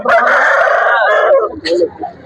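A rooster at the Gokavaram country chicken and fighting-cock market in East Godavari crows loudly and close, one long drawn-out call followed by short clucks from the fowl.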